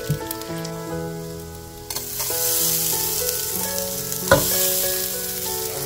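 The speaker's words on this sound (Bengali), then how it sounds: "তো এই যে দেখো গোটা গরম মশলা দিয়ে দিয়েছি, আদা কুচিগুলো দিয়ে দিয়েছি। এবার সবগুলো একটু ভালোভাবে ভেজে নেব।" Whole garam masala and chopped ginger sizzle in hot oil in a pan, a steady close frying hiss that swells louder as the spices are stirred, with a low ringing tone and a couple of spoon knocks against the pan.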